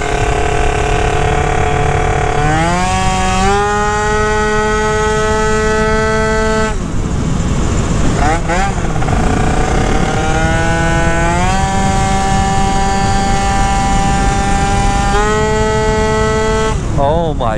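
A Phantom F12 70cc scooter engine on a test ride wails loudly and steadily, its pitch climbing through each acceleration, dropping briefly around a gear or speed change, then rising again.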